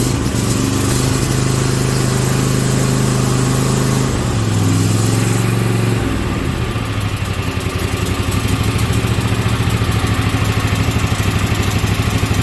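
A small engine with a freshly tightened muffler cranks and catches, then runs at a steady loud idle with a rough pulsing exhaust note, close and continuous.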